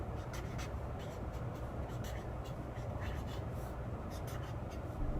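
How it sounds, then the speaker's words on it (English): Pen or pencil writing vocabulary by hand on paper, a close, soft continuous scratching with short strokes against a faint room hiss, no talking. "First we need to write down some vocabulary."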